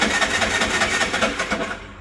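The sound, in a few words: Bajaj RE auto-rickshaw starter motor cranking when relay shorted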